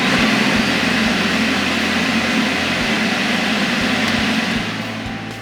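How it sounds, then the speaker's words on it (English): The vacuum motor of a Mopit floor scrubber runs with a steady, loud broadband whoosh and an underlying low hum, easing down slightly near the end. "When you flip the vacuum switch, does the vacuum motor turn on?"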